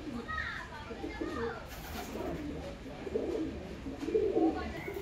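Released pet pigeons leaving their loft one by one coo in low, throaty bursts close by, while voices and children's chatter carry faintly in the background.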